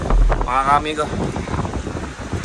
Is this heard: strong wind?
yes